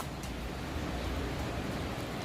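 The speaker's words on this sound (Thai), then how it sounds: "ฟัง เสียง คลื่นนะคะ" Ocean waves surging onto a Canadian shore at high tide, a steady broadband wash of surf that stays loud and unbroken throughout, with no distinct individual breakers standing out.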